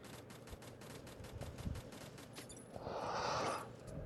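Rapid automatic gunfire from the mobile shooter game Warfriends, a fairly slow, evenly spaced string of shots heard alone and close, followed by a louder rushing blast.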